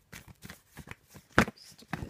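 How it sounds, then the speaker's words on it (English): A tarot deck is shuffled by hand at a table, a series of soft, quick papery riffles and taps in an irregular rhythm, close and quiet, with one sharper snap of cards. "have a little shuffle and put down a card from the Faulkner Tarot deck"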